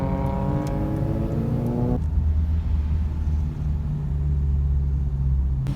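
Car engines rumble close by as vehicles pull in at a Honda Day car event, with a revving engine whose pitch climbs in the first two seconds before settling into a steady low rumble.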